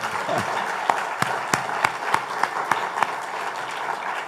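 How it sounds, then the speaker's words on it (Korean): A church congregation applauds together in a sustained wash of clapping, with a few sharper, distinct claps standing out at a fairly regular pace. "우리 또 다 같이 서로를 위해서 너무 여름 잘 보냈다고 박수 한번 하겠습니다."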